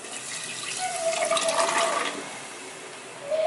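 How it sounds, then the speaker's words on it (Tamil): Soaked chickpeas and their soaking water are tipped into a cooking pot, making a brief gushing splash of water that swells, then tapers to a quieter trickle. "ஸோ ஊற வச்ச தண்ணியோட சேர்த்தே போட்டுடலாம்."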